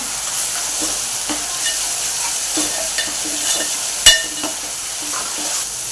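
Ground masala paste for dry clam (tisrya/shimplya) masala sizzles steadily in hot oil, stirred with scattered scraping clicks and one sharper knock near the end, close and moderately loud with no voices.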